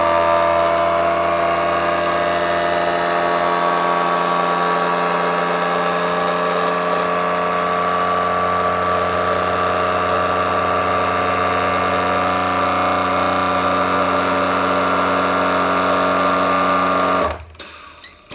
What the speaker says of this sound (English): Did you hear that, guys? Like a suction sound.